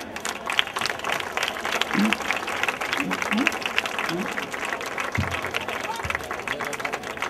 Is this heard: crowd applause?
yes